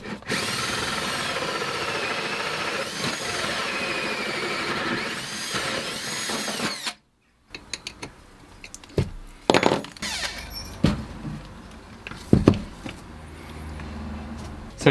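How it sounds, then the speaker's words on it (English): A power drill bores a big hole underneath a van kitchen unit, grinding loudly and steadily for several seconds before stopping, followed by a short silence and then scattered clattering knocks and tool handling noises. "then we can drill our big hole"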